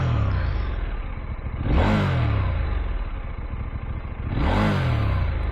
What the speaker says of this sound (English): One thing I love about this is the aftermarket SC Project exhaust note.